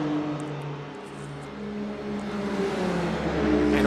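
Several GT3 race cars in a racing video game run down the main straight, a steady droning engine roar that swells slightly louder toward the end, with no voices over it.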